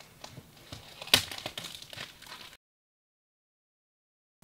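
Plastic wrap crinkles on a Logitech Craft keyboard, a close burst of crackling with one sharp loud rustle, then the noise stops dead into silence.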